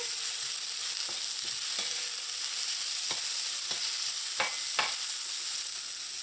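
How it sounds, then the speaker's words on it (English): Onions sautéing in hot oil in a pan for smoked herring, a steady loud hiss with a handful of spoon scrapes and taps breaking through, close and unvoiced. "you're going to add half of the onions. And saute until it's nice and lightly brown"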